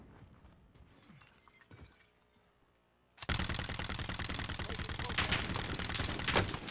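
Gunfire in a Call of Duty Warzone fight erupts suddenly after a quiet, sparse stretch, becoming a loud, dense, unbroken stream of rapid shots that lasts to the end.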